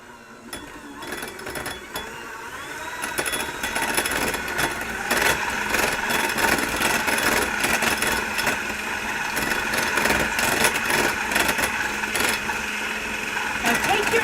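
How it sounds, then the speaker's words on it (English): Electric mixer beating egg yolks and cream cheese for a soufflé, a steady whirring motor drone that runs continuously at fairly close range, rising slightly after the first few seconds and holding level to the end. "The egg yolks and the cream cheese need to be beaten up really well."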